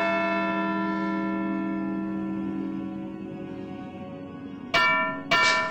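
A church bell in the adventure game Edna bricht aus rings out with a long decaying hum, then is struck twice more in quick succession, loud and clear with no talk.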